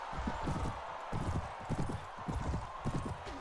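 Horse hooves galloping in the medieval battle game Mount & Blade Warband, a steady, rapid clip-clop rhythm of a ridden horse, moderately loud amid faint battle ambience.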